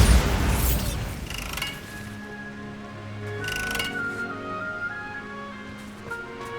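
Bombarda spell explosion in Hogwarts Legacy video game, a heavy boom at the start trailing into rumbling debris and ringing tones, with a second softer burst midway.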